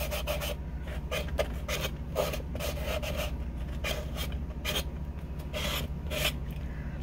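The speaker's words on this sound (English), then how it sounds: "now I'm gonna sand it down with my Dollar Tree sponge." A sponge sands putty on a wooden box in quick, rhythmic scratchy strokes. The rubbing is close and repeats in bursts with short pauses between them.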